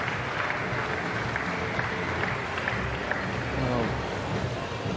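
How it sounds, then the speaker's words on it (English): Polite applause from a crowd at a 10 m synchronised diving competition, a steady wash of clapping at moderate distance, mixed with a murmur of voices and arena ambience. "applause there."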